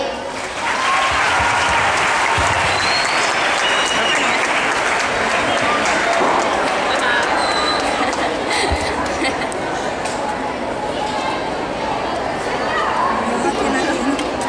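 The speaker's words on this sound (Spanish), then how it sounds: "Un aplauso para él." An audience breaks into sustained applause at a live event, loud and full throughout, with crowd chatter and cheering mixed into the clapping.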